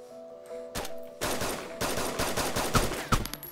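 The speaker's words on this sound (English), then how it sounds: "So many shots going on." Rapid gunfire in DayZ Standalone, moderately close, with quick bursts and chains of shots following a couple of isolated reports, growing into a sustained, chaotic volley.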